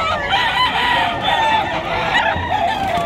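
Roosters crow repeatedly over a dense, busy clamour of clucking fowl at the Bocaue, Bulacan pet market, with overlapping calls close and far and no clear speech.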